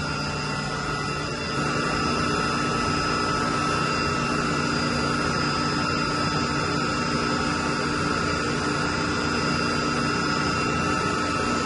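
A 60 HP chilled water pump motor runs under load with a loud, constant electrical hum and a whirring drone, steady and unbroken with no voices.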